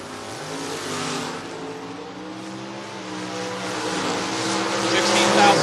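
Chevelle drag car accelerating down the strip at a door-cars drag race, a rising engine roar heard from a distance, swelling louder toward the end under an announcer's voice.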